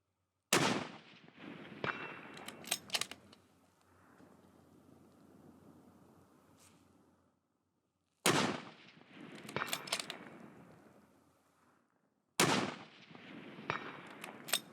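Three loud rifle shots at a long-range outdoor range, Sierra 6mm 105gr MatchKing loads, each a sharp crack with a rolling echo that fades over several seconds before the next.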